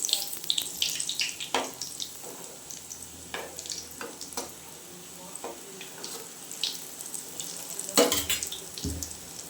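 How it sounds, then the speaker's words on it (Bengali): Food frying in a pan on a home stove, a steady faint sizzle with scattered sharp crackles and pops over several seconds, plus light clatter of utensils, with no talking. "এরকম করে সবগুলোই ভেজে নেব"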